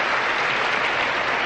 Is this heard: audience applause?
yes